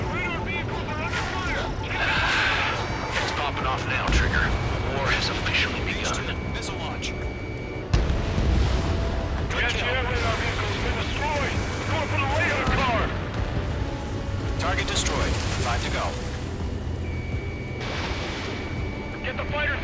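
Anti-aircraft gunfire and explosions rumble in the Ace Combat 7 mission 2 battle. Dense, continuous booming and crackling bursts run throughout, with radio-style voices talking over the din.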